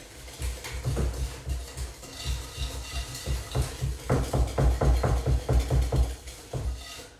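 Vanilla cake batter is mixed in a bowl, a close rhythmic thumping and scraping of utensil against the bowl that repeats steadily and grows busier toward the end.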